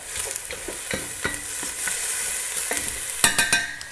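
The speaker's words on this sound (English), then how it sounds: "we want to saute our onion in olive oil" Onion sautéing in olive oil in a pan, a steady soft sizzle running throughout with scattered stirring clicks and scrapes, sharper utensil taps near the end.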